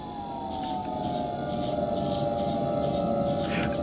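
Siren Head from a horror video game sounds as a loud, sustained wailing siren tone, steady and droning throughout with a faint hum beneath.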